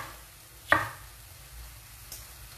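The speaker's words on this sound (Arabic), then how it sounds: "قصينا فلفل نقصو في الطماطم" A kitchen knife chops peppers and tomatoes on a board: one crisp, close chop, then a fainter second one a little later, over quiet room tone with no talking.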